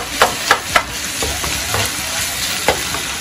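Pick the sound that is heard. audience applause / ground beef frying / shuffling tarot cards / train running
ground beef frying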